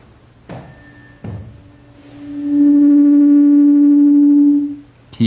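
Two tuning forks, one heated and one cold, are struck in turn. Their pure steady tones then ring together into a loud, sustained hum that swells and fades, with sharp strike clicks at the start and end.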